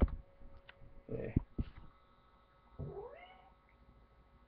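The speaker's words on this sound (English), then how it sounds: "When the cat's hungry, it will tell you." A hungry black cat meows up close in a few short, insistent calls, one longer rising meow near the end, with small clicks and household noises around them.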